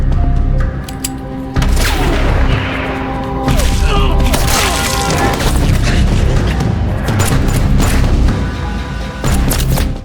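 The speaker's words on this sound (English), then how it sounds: "Nick activated the detonator, resulting in a deafening explosion that reverberated throughout the dam" A loud, booming explosion at a dam with heavy low rumble, followed by sustained roaring reverberation and scattered crashes throughout.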